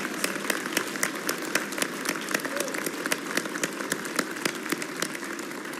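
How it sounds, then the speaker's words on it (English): Sustained applause from a large audience at the New Mexico 2025 State of the State address, a steady dense clapping that holds evenly throughout without a break. "Let's give them another round of applause."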